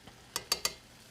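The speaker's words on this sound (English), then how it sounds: "Our veggies are sizzling down, looking great." Stir-fry vegetables including broccoli in a pan, heard as three quick scraping stirs in a row over a faint sizzle, close and fairly quiet.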